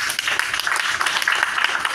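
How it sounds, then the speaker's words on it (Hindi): Audience clapping at a Hindi poetry recitation event, a steady dense patter of many hands applauding throughout, fairly loud and sustained with no pauses. "जितेंद्र जी के नाम तालियां ज़रूर बजा दीजिएगा"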